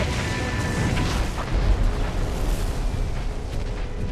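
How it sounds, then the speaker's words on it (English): Missile strikes from a Battletech game intro, heavy rumbling explosions and booms piling up into a loud, continuous barrage with no voices. "I got missiles coming in our position right now!"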